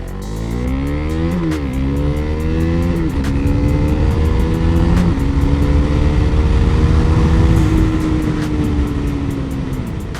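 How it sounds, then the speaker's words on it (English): A first-generation KTM Duke 390 motorcycle accelerates hard from a standstill toward 60, its loud close engine climbing through several quick gear changes with rising revs between shifts, no talking. "let's try to take off this bike now, and I will try to do it 0-60 as fast as I possibly can"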